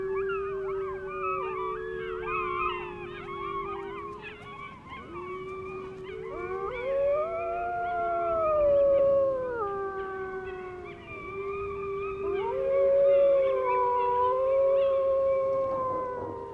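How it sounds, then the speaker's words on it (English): Several wild wolves in a pack howl together in long, overlapping, wavering tones that rise and fall, a clear chorus continuing throughout with no talking. "Howling always rouses one or more of the group into action."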